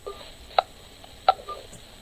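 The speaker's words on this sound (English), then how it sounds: "I keep hearing beeps" Two short electronic beeps on a telephone conference line, evenly spaced and fairly faint, with a softer third blip after, over a quiet hiss.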